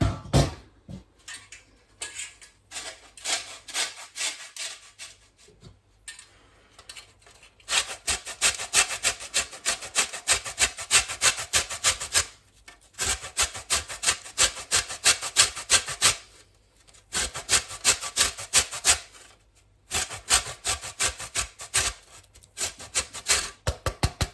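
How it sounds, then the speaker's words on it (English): Lemon rind rubbed across a grater into a pan, close and dry, in rhythmic bursts of quick scraping strokes separated by short pauses. "grate the rind of half of the lemon into the pan as well"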